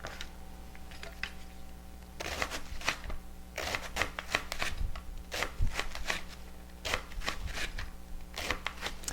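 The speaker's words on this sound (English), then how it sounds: "I just cut that in half, just to make it a little easier to eat." A knife cuts through cabbage in a series of crisp, rapid chopping bursts, close and fairly loud, coming in uneven clusters with short pauses between them.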